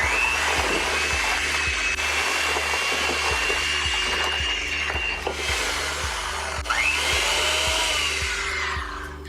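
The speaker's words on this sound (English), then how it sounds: "we're going to use our beaters and get this cream to mix together" Electric hand beaters creaming butter and confectioner's sugar for snowball cookies, a steady loud whirring motor with a rhythmic ticking as the beaters knock the bowl, alone without talk.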